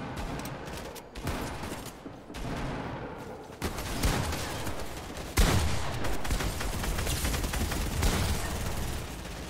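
Rapid bursts of gunfire from a Fortnite match at a hotel brawl, loud sharp volleys repeating through the whole stretch with no talking.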